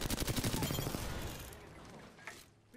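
Rapid bursts of automatic gunfire in the video game Apex Legends, a quick stuttering volley at the start that fades into a dull rumble with a faint later report.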